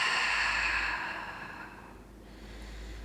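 A long, full breath out through the mouth while bracing the abs, a breathy hiss that fades over about two seconds, close and alone.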